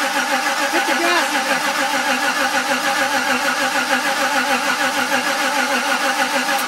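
A car engine with badly off ignition timing cranks continuously without catching, a rapid, even, loud churning rhythm that holds steady throughout.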